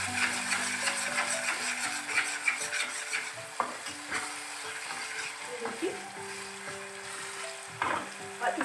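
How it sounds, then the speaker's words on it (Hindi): Thick masala stirred with a spoonful of desi ghee in a pan for masala chicken, a close, constant sizzle with repeated spoon scrapes and taps, while a steady tonal hum or music sits underneath. "इसमें मैं एक चम्मच घी डाल दूंगी देसी घी, और फिर इसको थोड़ा सा चला लूँगी।"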